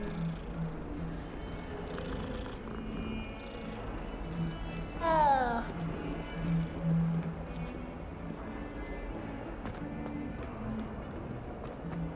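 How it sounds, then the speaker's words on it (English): A cat in the Hogwarts Legacy video game purrs softly while being petted, a low continuous rumble with a short rising meow-like cry partway through, set against quiet game ambience and no talking. "It's amazing you can pet cats."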